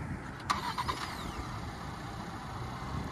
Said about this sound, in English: The 2024 Edge Titanium does have remote start over here.